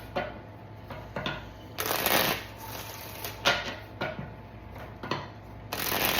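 Oracle shadow cards being shuffled in several brisk riffling bursts with short pauses between them, close and fairly quiet with a low background hum.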